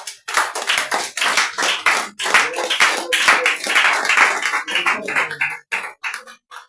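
A church congregation at a revival fasting and repentance prayer service in Yopougon claps in rhythmic, lively bursts that are loud and close, then tapers into scattered claps.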